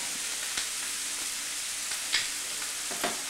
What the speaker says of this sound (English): we're going to deglaze with some tarragon vinegar